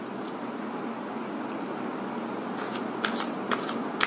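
Tarot cards are shuffled and drawn in soft, continuous papery rustling, close by, ending in a few sharper snaps and flicks as cards are pulled; no voices are heard.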